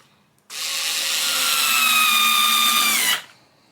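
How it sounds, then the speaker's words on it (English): A power drill drives a screw through a rail into a wooden board, one continuous high whirring burst of about three seconds that starts and stops abruptly. "I'll begin with screwing this rail roughly into the middle of this board."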